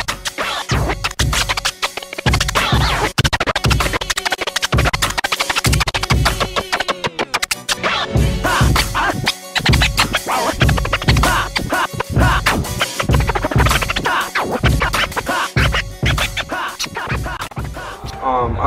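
A DJ scratches records over hip hop and EDM-style music, with rapid, choppy scratch bursts cutting loud and continuous across a dense beat.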